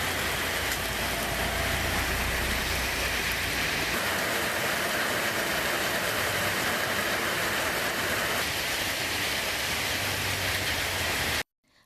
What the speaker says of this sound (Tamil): நீலகிரி மாவட்டம் கூடலூர், பந்தலூர் சுற்றுவட்டார பகுதிகளில் 2வது நாளாக கனமழை கொட்டி தீர்த்தது.